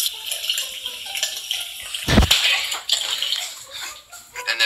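Hot water running steadily from a tap onto a towel, a continuous hiss of flowing water with a brief louder splash midway, close and moderately loud, no talk.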